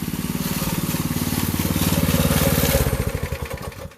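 A Predator 224 engine on a minibike runs close by with a rapid, steady low chugging putter, loud and alone, slowing and fading toward the end as it shuts off.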